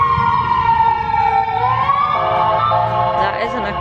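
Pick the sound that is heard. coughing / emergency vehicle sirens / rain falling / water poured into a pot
emergency vehicle sirens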